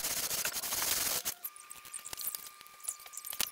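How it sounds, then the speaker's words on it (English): A radius block sands an acoustic guitar fretboard edged with binding. One sustained rasping stroke is followed by scattered small clicks and taps, close and moderately loud. "Now I radius the fretboard, kind of help it out a little bit by planing down the edges to the height of the binding, and then using a radius block"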